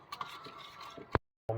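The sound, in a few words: stirring lasagna sauce with milk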